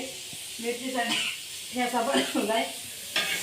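Food cooking in a pan gives a soft, continuous sizzling hiss, while someone talks over it almost the whole time.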